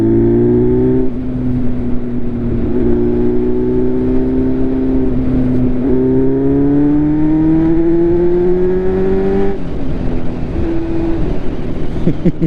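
A motorcycle engine runs close and loud, holding a steady drone that rises and falls slightly in pitch as the revs shift. No voices are heard over it.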